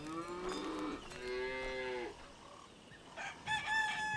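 Cattle herded out to graze moo in several drawn-out calls, and a rooster crows near the end, all moderately close in a quiet rural setting.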